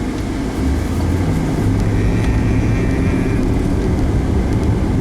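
A Jeep LJ with a 4.0 engine on a test drive after a spark plug change, giving a steady droning engine and road noise that holds evenly throughout, with no one speaking.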